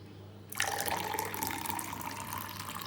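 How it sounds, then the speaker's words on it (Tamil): Cooled butterfly pea flower water poured into a glass already holding half a lemon and a tablespoon of honey, a steady close splashing stream that starts abruptly and runs on without speech. "இந்த நான் ஆற வச்சுருக்கேன் இந்த சங்கு புஷ்பம் தண்ணியை நம்ம இதில் விடணும்"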